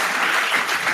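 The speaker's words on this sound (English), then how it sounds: "Listen to that crowd." Clapping from the crowd at a New Orleans city council meeting: a dense, even wash of applause filling the whole brief moment, loud and steady without any pause.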